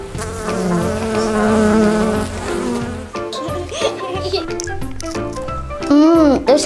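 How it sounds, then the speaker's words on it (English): Bees buzz at a farm beehive, a steady droning hum that is partly covered by other close sounds and a short burst of whirring near the end. "you might be able to hear the bees buzzing"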